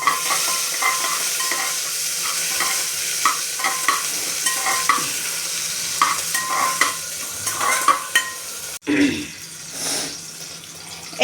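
Cumin seeds sizzle in hot oil in a pan, with a steady frying hiss under repeated scraping and clicking stirs, then a brief louder clatter near the end.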